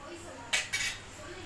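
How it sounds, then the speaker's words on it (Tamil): Tamarind is stirred into egg curry in a pot: two quick metallic spoon scrapes against the pot in a row, fairly close, over a quiet background. "புளி சேர்த்துட்டு கொஞ்சம் நல்லா கிண்டி விடுங்க."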